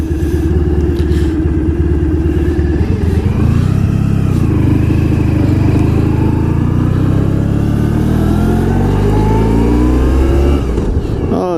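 A 1994 Honda ST1100 Pan European motorcycle is ridden on the road. Its engine drones steadily and close, with rising and falling revs through gear changes and constant wind rush the whole way.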